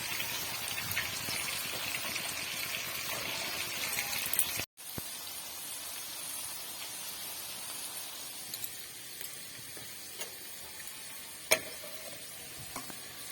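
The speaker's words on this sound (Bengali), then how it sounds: "সবজিগুলো সব ভেজে নেব আলু আর বিনস কড়াই আর গাজর সবার একসাথে ভেজে নেব" Potatoes, beans and carrots fry together in oil in a pan, a continuous crackling sizzle with stirring scrapes and a few sharp clicks, close up, with a brief cut partway through.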